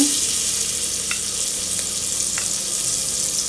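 Chopped onion sizzles in a little oil in a pan as the start of a cream sauce for vegetarian pasta. The frying hiss is steady and close, with a few faint clinks.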